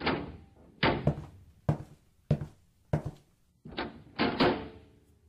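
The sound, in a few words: door opening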